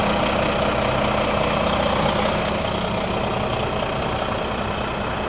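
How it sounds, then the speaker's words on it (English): A truck engine idling on a bush highway, a steady, loud, dense rumble that holds unchanged throughout with no voices. "Get away from the noise of that truck a bit."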